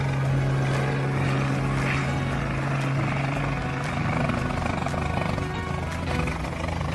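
Helicopter rotor noise from a craft flying low over a highway: a loud, steady whirring drone with a sustained low hum that stays close and constant throughout, with no voices.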